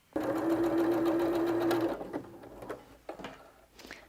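A sewing machine stitches felt in one steady buzzing run of under two seconds, followed by a few soft clicks and handling noises as the work stops.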